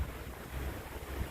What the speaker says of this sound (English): Oh, the wind's really coming in.